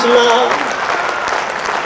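Loud, dense applause from the audience at a university kavi sammelan poetry gathering, continuous and close throughout, with a voice briefly heard over the start of the clapping.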